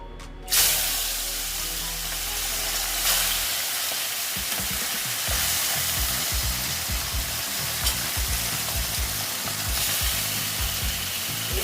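Pabda fish are dropped into hot oil and fry with a bright, close sizzle and crackle, and a low hum in the opening seconds gives way to steady spattering throughout.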